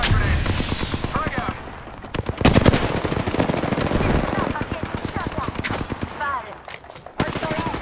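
Rapid automatic gunfire from a Bangalore match in a first-person shooter game, dense bursts of shots and a whooshing sweep, loud and continuous for several seconds with brief pauses.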